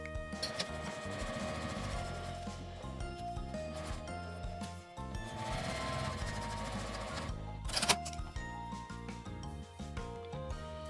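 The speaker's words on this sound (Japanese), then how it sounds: "端ミシンをかけます。" A sewing machine whirs steadily as it stitches, with rapid mechanical ticking and a brief dip partway through; quiet and close, no voices.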